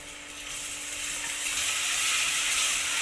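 Ginger garlic paste sizzles in a hot oiled pan for mint rice, a bright continuous hiss that grows slightly louder and fuller over a few seconds, with no talking.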